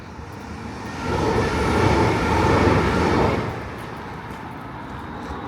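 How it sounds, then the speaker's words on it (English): A train rumbles past, swelling to a steady roar of wheels on track and then fading back to a low background hum. "Just heard a train going over the tracks there."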